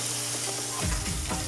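Hotdog sautéing in a pan gives a continuous close sizzle that turns louder and more crackly about halfway through the short moment, as if stirred or freshly disturbed.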